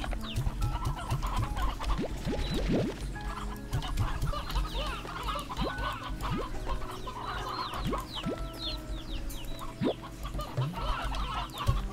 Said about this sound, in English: Okay, now let's check on my chickens.